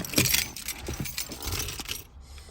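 Car keys for a 2010 MINI Cooper jangle in a hand close by, with a continuous metallic rattle that rises and falls for about two seconds before fading out.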